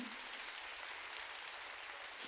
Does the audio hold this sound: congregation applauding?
yes